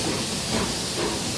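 Walt Disney World Railroad train pulling out of Main Street Station, a steady broadband hiss of steam with faint rumble underneath, continuous and fairly close for the whole moment, no talk.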